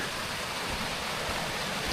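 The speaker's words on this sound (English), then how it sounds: "You can see we've got a lovely river and a little bit of a waterfall down there." A river with a small waterfall in the snowy winter Lake District gives a steady, continuous rush of water. The sound is fairly faint, with no voices.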